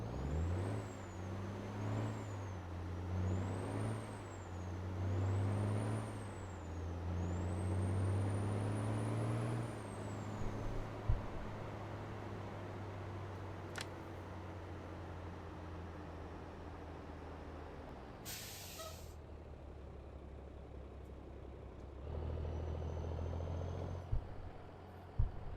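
A truck in American Truck Simulator slows to a stop with the engine's rumble and whine winding down, followed by a sharp hiss of air brakes releasing, then the idle picks back up and the truck moves off.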